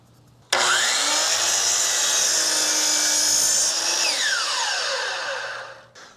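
A power saw rips through wood while cutting angled pieces for a picnic table, a loud steady whine that starts abruptly, holds for several seconds, then drops in pitch and winds down as the blade slows.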